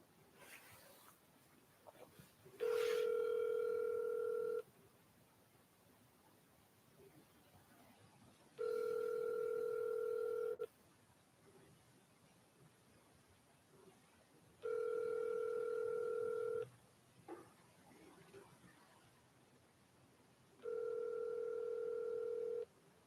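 Telephone ringback tone heard four times while placing a phone call, each long steady tone separated by several seconds of quiet line hiss.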